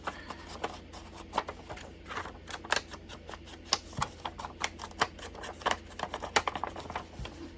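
Crafty scissors snipping paper to trim a journal card, a string of small crisp clicks and cuts at an irregular pace, close but fairly quiet.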